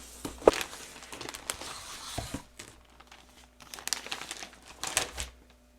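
A cardboard box holding a carpenter's hatchet is cut and torn open, producing close crinkling, scraping and ripping bursts with brief quiet gaps between them and no voices.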